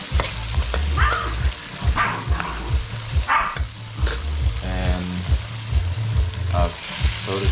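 Seasoning and ingredients fry and burn in a pot for Guyanese fried ground provisions, a close, continuous sizzle with scraping stirs, while a dog barks repeatedly in the background.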